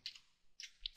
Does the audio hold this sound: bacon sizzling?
no